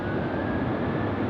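An airliner arriving from Shanghai lands, its engines making a loud, steady broadband roar that holds evenly throughout.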